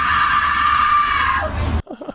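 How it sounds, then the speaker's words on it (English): A woman's long, loud, piercing scream, held steady and then trailing off sharply, followed by a brief muffled voice. "Quite a scream though."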